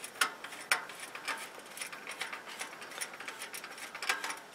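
A metal fastener being threaded through a stove pipe elbow for a tent stove damper, giving a close series of small ratcheting clicks and scrapes at a fairly steady pace.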